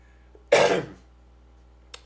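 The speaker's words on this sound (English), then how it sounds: "Slight cough there." A single throat clearing merging into a slight cough, one short rough burst close to the microphone, followed by quiet and a faint brief sound near the end.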